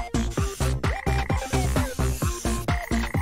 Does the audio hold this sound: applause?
no